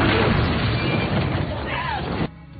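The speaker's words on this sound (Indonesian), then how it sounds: "berlangsungnya sebuah ledakan yang diakibatkan oleh bom yang" A bomb blast in a film scene roars as a dense, sustained rumble that holds loud for about two seconds, then cuts off abruptly into quieter background.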